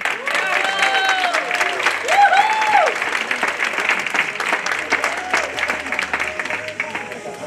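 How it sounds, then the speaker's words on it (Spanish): Audience at a real-estate marketing talk applauding, a steady wash of many hands clapping at close range, with a voice briefly speaking over it near the start. "Un aplauso para mí."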